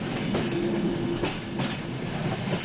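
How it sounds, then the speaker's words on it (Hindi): Passenger train of Indian Railways running on rails, a continuous rumbling roar with rhythmic clatter of wheels over joints and a brief tonal squeal, heard from inside or close by without speech. "पर अब ऑफिस के काम से थके हारे हरकेश शाम को घर वापस जाने के लिए सुकून से ट्रेन में सवार होते हैं।"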